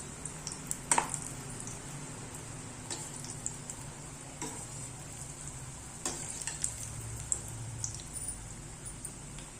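Maida biscuit dough roasting in a pan over a low flame while being stirred, a soft continuous sizzle broken by occasional scraping ticks of the spoon, close and quiet, no talking.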